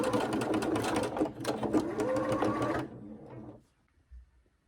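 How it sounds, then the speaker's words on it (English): A sewing machine runs fast stitching fabric for XXL scrunchies, a dense mechanical whir for about three seconds, then a short slower burst before it stops, followed by a faint thump. "then we're going to start sewing. Sew forward a bit, back stitch"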